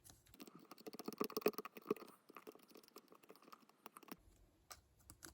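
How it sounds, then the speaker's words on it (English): A fiberglass pencil scrubs and scratches at an HO scale Mantua F7 model locomotive, giving dense, rapid, close-up scratching and ticking strokes that come in bursts and then thin out toward the end. "think I'm going to go at this with my fiberglass pencil now. See if I can get this cleaned up just a little bit."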